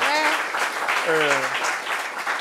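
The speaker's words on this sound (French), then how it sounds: "On applaudit pour elle, s'il vous plaît." An audience applauds a woman who has told her story of drug addiction and tuberculosis, with steady, loud clapping throughout while people talk over it.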